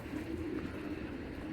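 A single black checker racing pigeon gives a brief low, rolling coo up close, alone and steady for a moment.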